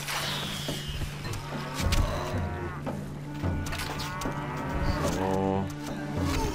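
Cattle moo repeatedly in Stronghold Crusader, drawn-out lowing calls with pitch glides over a steady low game hum, and a voice briefly speaks over them.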